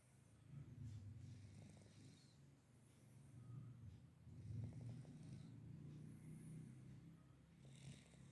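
A sleeping cat snores softly in rhythmic cycles, low rumbling inhales repeating every couple of seconds with faint purr-like texture, close and steady with no talk.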